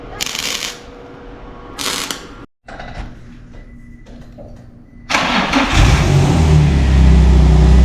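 Nissan G35 coupe engine, just after an exhaust leak repair, cranking with short bursts and then catching into a loud, steady rev that holds to the end, close and with no talk.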